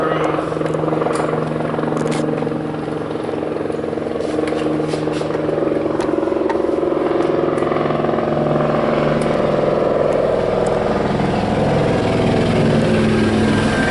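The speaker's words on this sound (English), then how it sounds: "It's a big ass helicopter flying above our shop." A large helicopter passes over a workshop, its steady rotor and engine rumble droning loudly and continuously throughout.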